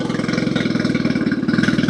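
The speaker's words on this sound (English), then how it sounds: "I think this engine sounds great" A jet ski engine, an old machine bought cheap, runs steadily with a rapid, even pulsing chug, close and moderately loud with no voices.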